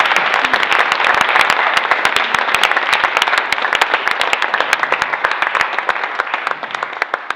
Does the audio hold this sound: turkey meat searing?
no